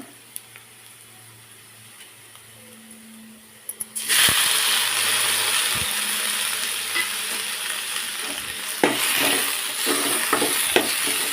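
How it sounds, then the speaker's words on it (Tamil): Tomatoes are added to softened onions in a pan and sautéed for a thickened Tamil spring onion relish; after quiet handling sounds, a loud steady sizzle bursts in, with a spoon scraping and stirring through it. "இப்போ அது தக்காளியும் சேர்த்து வதக்கிக்கலாம்"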